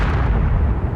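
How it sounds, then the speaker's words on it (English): Detonated charges explode in a space video game on Mars, a single loud, deep, rumbling blast that fills the whole moment with no voices over it. "The explosion was impressive."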